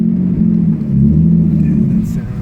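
A Nissan Skyline R33 fitted with a new turbo accelerates with a deep, steady engine rumble close by, the drone holding for a couple of seconds while a voice speaks over it.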